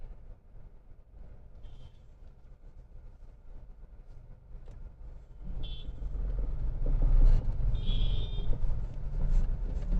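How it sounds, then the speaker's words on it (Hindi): A car creeps forward in slow market-area traffic, its engine giving a low rumble that swells midway as it pulls away, with faint higher beeps in the background. "अभी क्लच रिलीज किया है तो मेरी कार मूव होने लगी"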